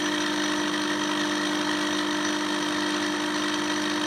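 Flywheel of an energy expansion generator on a Bedini charging setup spinning steadily, a constant droning hum with a firm mid-low tone and no change in pitch.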